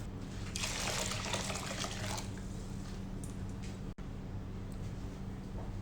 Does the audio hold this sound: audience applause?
no